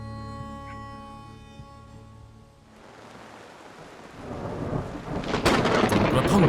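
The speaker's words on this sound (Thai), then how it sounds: "พายุฝนถล่มลงมาหนักหน่วงที่สุดในรอบหลายปี" A heavy thunderstorm with downpouring rain, opening on a low steady tonal hum that gives way to a broad wash of rain, building louder toward the end with crackling bursts of thunder.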